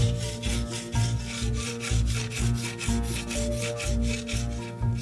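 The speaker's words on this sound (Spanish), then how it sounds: "Y ahora, lijamos en la losa de arenisca toda esta fila de piedras juntas." A row of perforated stone beads threaded on a wooden stick, rubbed back and forth on a sandstone slab: a loud, steady rhythmic gritty scraping, about four strokes per second, with no voices.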